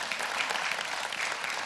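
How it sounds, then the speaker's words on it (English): A brief burst of steady applause from a church congregation, many hands clapping at once, fairly soft and even throughout. "I think we ought to give the Lord a great big praise clap for that"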